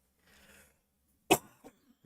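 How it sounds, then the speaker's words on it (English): A single sharp, close cough from someone with a lingering chest cold, followed by a softer trailing cough and quiet breaths, with a faint murmur beforehand. "I've got a little bit of a lingering cough"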